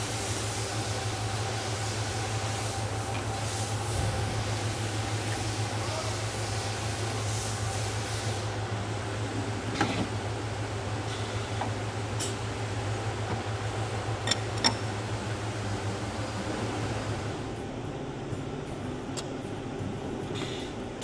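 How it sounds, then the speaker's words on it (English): A factory metal mating machine presses brass pieces into copper to form a landscape light riser without glue or fasteners. It gives off a steady, loud mechanical hum with a few sharp clicks partway through. "Let's take a look at our metal mating machine."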